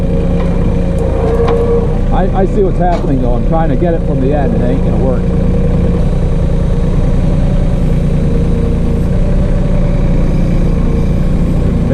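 A New Holland Workmaster 25 compact tractor idles loudly and steadily nearby out in the woods, its engine drone continuous under someone talking for the first few seconds.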